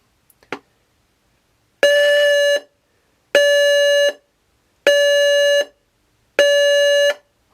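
After a faint click, a Pekon fire alarm sounder blares four loud, regular harsh electronic tones, each under a second, separated by brief silences, with no voices.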